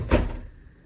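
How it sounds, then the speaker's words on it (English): Automatic hotel room door opener at the Hyatt Regency at Orlando International Airport, heard as a single close mechanical whoosh and thud that fades quickly into quiet room tone. "That was an automatic door opener."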